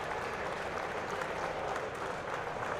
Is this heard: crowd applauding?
yes